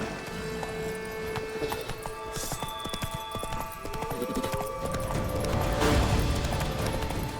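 Roach the horse galloping in The Witcher 3: Wild Hunt – Blood and Wine, with rhythmic clip-clop hoofbeats over steady game music and ambience, the hooves growing slightly louder toward the end.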